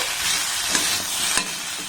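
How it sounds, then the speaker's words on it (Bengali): Bitter gourd, already fried, tossed into a pan of mixed vegetable curry and stirred, giving a steady sizzling hiss with a couple of brief scraping strokes, close and alone. "যে উচ্ছেটাকে আমি ভেজে রেখেছিলাম সেটা দিয়ে দিলাম এটা দিয়ে আমি আর একবার নাড়াচাড়া করে নেব"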